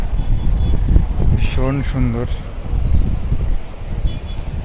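Steady wind buffets the microphone with a low rumbling roar on a hotel rooftop near the sea in Digha, and a voice speaks briefly partway through.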